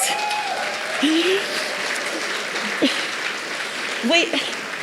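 An audience at a gala show gives a sustained round of applause, steady and moderately loud, while a voice talks over the clapping.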